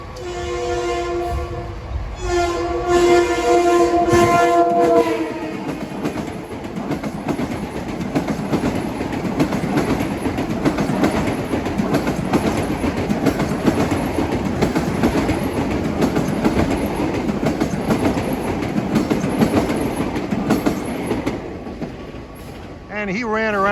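A Long Island Rail Road commuter train of M9 cars passes Nassau Tower in Mineola, sounding its horn in several blasts before a loud, sustained rumble and wheel clatter roll by close up.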